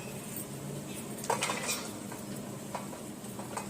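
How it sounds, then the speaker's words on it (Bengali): A lid set over a cooking pot, one brief metallic clatter and scrape standing out over a low background of light kitchen clinks and faint sizzling. "এখন এটাকে ঢেকে দিব কিছুক্ষণের জন্য। এটাকে ঢেকে দিতে হবে।"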